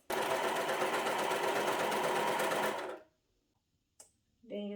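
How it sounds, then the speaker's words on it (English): A sewing machine runs a dress seam in a loud, steady whirring burst for about three seconds, then stops; a voice briefly talks afterward. "if you're using your sewing machine, just make sure you use a zigzag stitch so that it will allow your garment to stretch"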